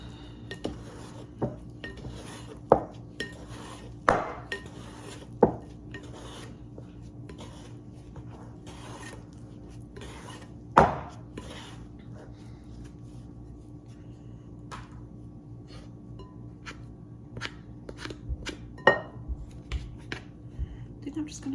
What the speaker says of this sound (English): I'm gonna use my scraper to get some of the stuff off of the walls and just mix.